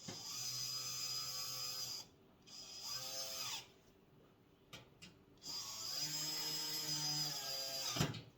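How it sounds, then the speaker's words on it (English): Screws being driven into a Nexgrill two-burner portable propane gas griddle grill with a power driver, whirring in several bursts with pitch rising as each screw tightens, close and fairly quiet, no talking. "So we're screwing those in pretty easy."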